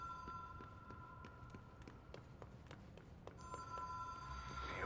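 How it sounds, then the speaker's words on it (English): An in-game telephone rings in the video game Control, repeated electronic trills with a short gap between bursts, set against faint ambient room hum with no talk. "Pick up the phone."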